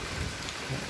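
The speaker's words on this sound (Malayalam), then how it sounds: "നല്ല മഴയാണ്" Heavy rain pours steadily near a temple, a dense, even hiss of drops hitting surfaces with a low rumble underneath, continuous and close for the whole moment.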